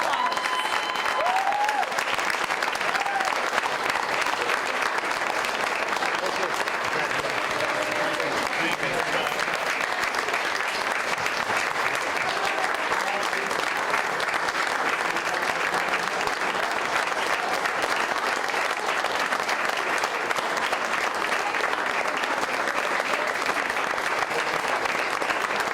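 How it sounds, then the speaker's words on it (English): Sustained applause from a school board meeting audience honoring retirees, a dense, steady wash of clapping that holds at full strength for the whole stretch with faint voices mixed in. "Let's give our retirees one more round of applause."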